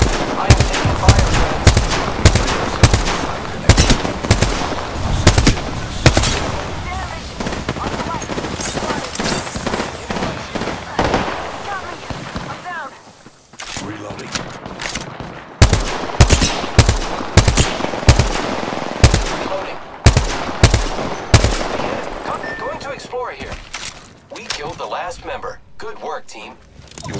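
Rapid automatic gunfire and single shots in the Apex Legends battle royale shooter, loud bursts repeating through most of the stretch with a short lull midway, under a game voice calling out.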